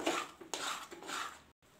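A spoon stirs sweet coconut batter in a metal pan, making soft continuous scraping and clinking against the pan, close but quiet, with a brief gap near the end.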